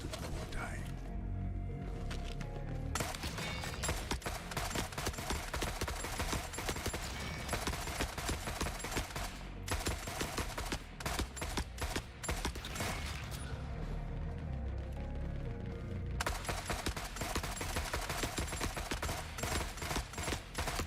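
Continuous gunfire from The Forever Winter game, with dense, rapid automatic shots crackling steadily for about twenty seconds and only brief gaps, loud and near, while a player talks over it.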